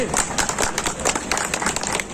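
Crowd clapping at a village kabaddi cup tournament, a dense patter of many hands close by for a couple of seconds, with a voice talking over it.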